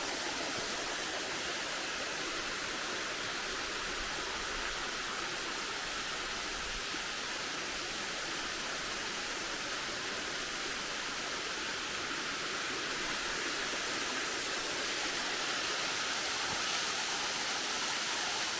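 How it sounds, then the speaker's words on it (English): Big Leatherwood Falls rushes in a steady, even broadband roar of falling water beside a creek, heard alone and unbroken at moderate loudness throughout. "But that is Big Leatherwood Falls."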